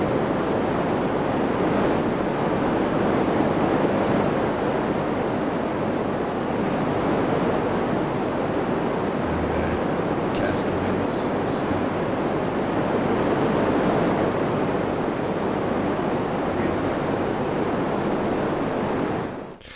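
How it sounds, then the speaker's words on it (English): A steady, dense rushing noise of red noise from a modular synth, like heavy rain pouring down, constant and loud throughout before cutting off abruptly. "Red can also be good for sea, but I think it's more of a stormy weather, like a really hard rain."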